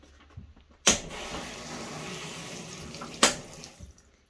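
Water running into a Maytag Centennial commercial-quality top load washer, a steady rushing flow bracketed by two sharp clicks or clunks, close and moderately loud with no voices.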